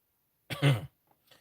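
One short, harsh cough with a throat-clearing edge after coffee went down the wrong way, close by and then followed by quiet.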